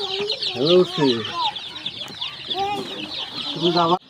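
Tiger chickens cluck in a poultry shed, a close, busy chorus of short repeated clucks and calls over a steady background of birds, with a voice talking briefly among them.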